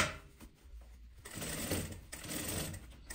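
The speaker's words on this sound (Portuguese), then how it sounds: "E vamos rebater aqui essa costura." A sewing machine topstitches a fabric seam, running in a steady, fast mechanical whir close up that lasts nearly the whole stretch, with a brief slowdown early on and no talking.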